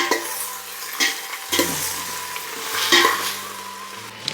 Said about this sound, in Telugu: టమాటో పచ్చిమిర్చి వేసి ఒకసారి అలా ఫ్రై చేసుకుందాం